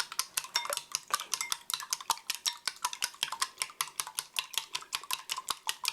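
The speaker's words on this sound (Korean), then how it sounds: "노른자부터 터뜨린 다음 고루 섞어주세요" Eggs being beaten in a bowl for scrambled eggs with onions, a fast, even run of sharp clinks as a utensil strikes the bowl about five times per second, close and crisp, with no one talking.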